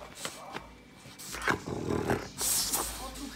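A small dog gives low growls and snorting grumbles close by, in uneven short bursts, with a person's voice mixed in among the sounds.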